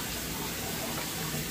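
Tap water runs steadily into a container holding raw chicken wings, a continuous even hiss and splash with no pauses and no voices.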